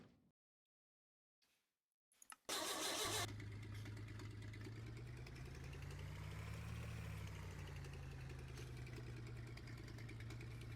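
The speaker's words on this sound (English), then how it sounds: "So this is the flathead 6-cylinder." An old flathead six-cylinder engine cranks over after a near-silent start, catches with a loud burst and then settles into a steady, throaty idle with a slight rise in revs partway through, heard up close with no talking.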